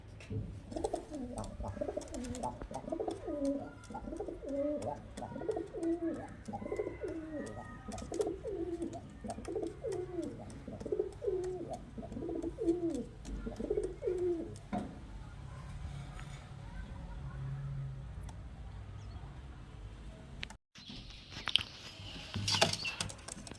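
Pairs of highflyer pigeons, Kalshira Madrasi and Kalduma types, coo in steady repeated rhythmic phrases close by, fading into quieter background rustle and clatter in the latter part with a brief sharp knock near the end.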